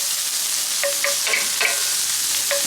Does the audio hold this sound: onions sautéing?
yes